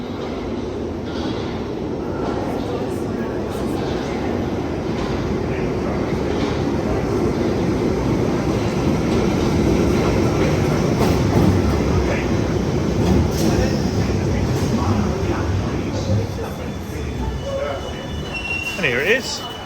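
A passenger train at London Waterloo station on South Western Railway rumbles steadily at close range for about twenty seconds, its wheels squealing on the rails over the continuous roar.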